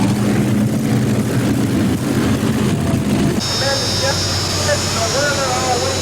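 Modified pulling tractor powered by four T55 Lycoming turbine engines: a loud, continuous turbine roar with a high whine rising in the second half, under an announcer's commentary at a tractor pull.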